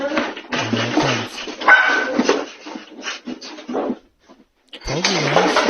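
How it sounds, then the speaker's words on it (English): A dog barks and whimpers just before an earthquake, a run of yips and whining barks with short pauses, then a brief quiet gap before another drawn-out whimpering bark rises. "He gave the bark."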